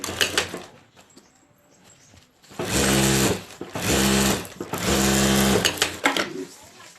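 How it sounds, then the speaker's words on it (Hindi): A sewing machine stitches a handbag, running in three loud, steady whirring bursts of about a second each, with short pauses between them and quieter handling sounds before. "और यहाँ एक सिलाई कर देंगे ऊपर।"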